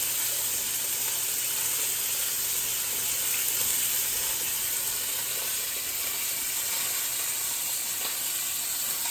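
Beef chunks sear for stew in a hot pan with a steady, even sizzle and hiss that holds at moderate loudness throughout, without talk.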